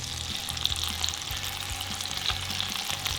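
A wagyu burger patty frying in butter with onions in a pan, giving a dense, continuous sizzle close up with faint liquid bubbling and spooning sounds, and no talking.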